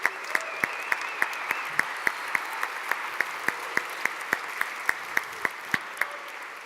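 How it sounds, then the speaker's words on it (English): An audience applauds at a tech and startup festival after a talk. Sharp, evenly spaced claps stand out in a steady rhythm over a softer bed of general clapping, and the sound holds at a moderate level. "let's have some applause for a great talk"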